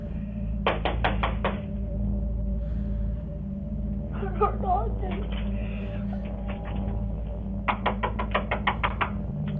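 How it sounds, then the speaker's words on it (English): A hand pounds on a door in rapid bursts of heavy knocks, separated by pauses, with a steady hum and a brief shaky vocal sound between. "pounding her hand against the door"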